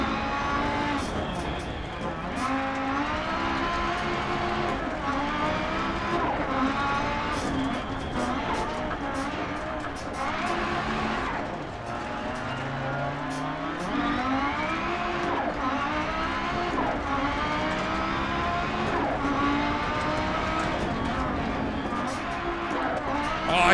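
An Audi S1 Quattro rally car in Dirt Rally on the Pikes Peak course, its engine droning and rising and falling through gear changes nonstop at close range, with a voice talking faintly underneath.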